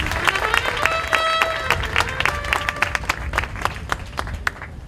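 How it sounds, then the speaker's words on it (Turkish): Wedding guests at a Turkish ceremony break into applause, dense overlapping claps with a few louder sharp hits and cheers, close and steady over background crowd voices. "Güçlü bir alkış rica ediyorum."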